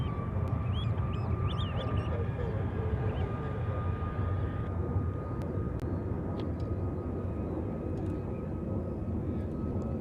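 A Southwest airliner departing Honolulu airport roars with a steady, broadband jet rumble and a high whine, loud throughout, with faint bird calls and distant voices mixed in.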